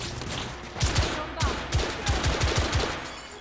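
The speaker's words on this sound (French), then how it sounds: "Oh là là, mitraillette, attention." Machine gun fire in The Order 1886 rattles out in several short bursts of rapid, punchy shots, loud and close, with brief gaps between volleys.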